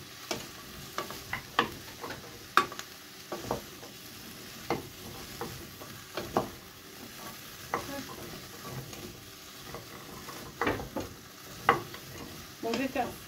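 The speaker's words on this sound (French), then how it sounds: "rien que l'huile d'olive et l'oignon qui chauffe" Chopped onion sizzles in hot olive oil in a pan, a steady close crackle broken by repeated sharp clicks and scrapes as it is stirred, with no one talking.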